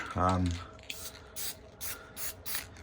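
Several short bursts of aerosol lacquer sprayed onto a gourd birdhouse, evenly spaced hisses, after a brief low hum at the start.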